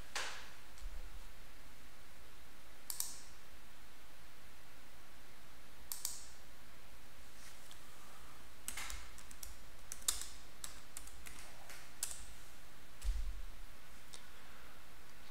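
Sparse, quiet computer clicks and light keyboard typing while creating a watchlist in a trading app, with isolated sharp taps spread across the stretch and no voices.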